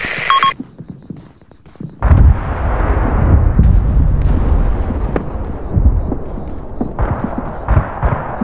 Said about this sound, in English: Fire at target! Enemy plane!